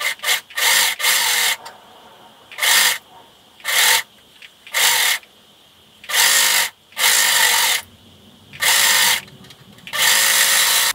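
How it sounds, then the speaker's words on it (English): Sewing machine stitching a seam on a cotton t-shirt being made into a child's romper, heard as loud, close bursts of rapid whirring, each lasting about a second, separated by short quiet pauses. "Then you're going to sew this seam and do the other sleeve."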